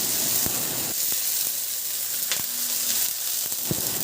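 Garlic and onion sautéing in a little oil in a pan give a steady close hiss and sizzle, with a few sharp clicks of a utensil against the pan.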